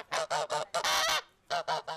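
Geese at a St. Martin's Day village gathering honk in a rapid series of loud, close calls, three quick honks, a longer burst, then three more.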